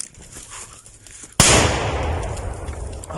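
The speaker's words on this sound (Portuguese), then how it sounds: "A explosão me pareceu pequena." A sharp explosion set off to sabotage a railway line, a single sudden blast after quieter ambient noise, followed by a long rumbling decay that fills the rest of the moment.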